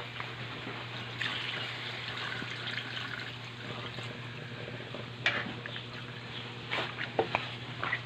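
Water pouring and trickling steadily into a cooking pot of pork sinigang, a continuous liquid rush with a few clinks near the end.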